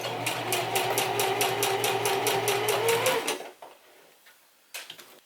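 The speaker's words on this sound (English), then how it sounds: "It's easier to sew past the tab if it's up." A sewing machine stitches a woman's fly zipper in a fast, steady rhythmic run of needle strokes for about three seconds, then stops, followed by faint handling noises and a brief burst of a few more stitches.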